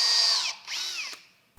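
A Rockler self-centering Vix drill bit bores into a wooden bed headboard in two short whining bursts from a power drill, the second dropping in pitch as the bit bites, close and loud, then it winds down.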